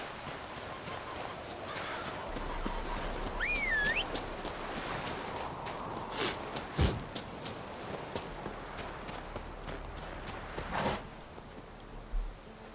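Rapid hoofbeats of a runaway horse galloping in The Witcher 3: Wild Hunt pound along steadily, with a brief squeal and a few sharper thuds scattered through.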